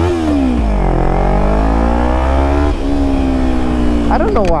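A motorcycle engine revving hard close up, pitch rising and dropping as it shifts gears, loud and continuous, with someone talking over it.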